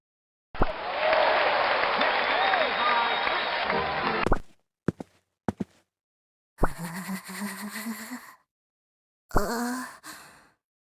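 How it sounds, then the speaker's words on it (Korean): Crowd applause greeting a newly elected mayor before an inaugural speech in the video game Trickcal Revive, a steady dense clapping burst lasting about four seconds, followed by short game sound effects and brief voiced segments. "모두 우리의 새로운 시장님을 열렬한 박수로 맞아주시길 바라겠습니다."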